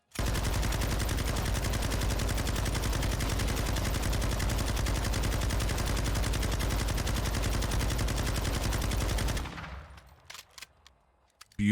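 Machine gun in Warzone 2 emptying a full 100-round magazine, one unbroken, loud, rapid burst of gunfire lasting about nine seconds before cutting off, followed by a few faint scattered clicks and thuds.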